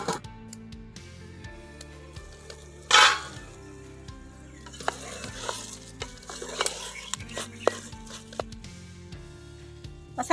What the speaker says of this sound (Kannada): ಮಸಾಲೆ ಸ್ವಲ್ಪ ಬೇಯಬೇಕು